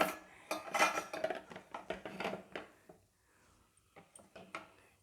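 A ladle set inside a washed bottle to dry in a kitchen, giving a quick series of sharp, close metallic clinks and knocks, then a brief pause before a few lighter taps.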